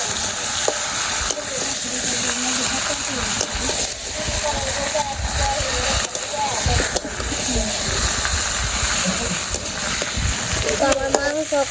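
Meat sizzles in a pan with onions, a dense, crackling fry with stirring scrapes throughout, loud and close, while a person talks over it.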